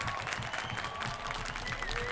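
A crowd applauds in a dense, sustained wash of clapping at steady volume, staged as a sound effect in an audio drama.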